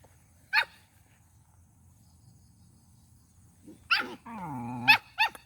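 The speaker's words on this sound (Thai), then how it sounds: "หมากะเห่ากัดกันพี่น้องเอ้ย" Dogs barking and fighting outdoors by rice fields, with a sharp bark early on, then a burst of barks and a harsh growling snarl near the end, over a constant chirping of crickets.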